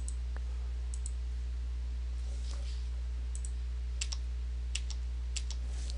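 A computer mouse clicks on a web page, with a handful of sharp, faint clicks scattered over a quiet, steady hum and no talking.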